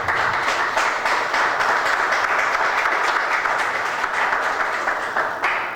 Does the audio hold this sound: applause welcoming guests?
yes